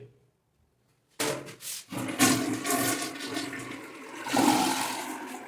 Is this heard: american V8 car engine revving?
no